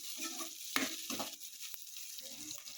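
Onions frying in a pan for beetroot fry, a quiet close sizzle punctuated by a few sharp spoon taps and stirring scrapes, no voices.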